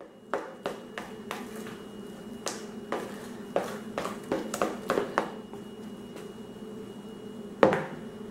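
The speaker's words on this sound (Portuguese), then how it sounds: "Enquanto puder, vai misturando com a colher." A spoon works wheat flour into a soft homemade bread dough with condensed milk and coconut flakes, giving a series of light, sharp taps and clicks against the bowl at an uneven pace over a faint background hum, ending with one firmer knock.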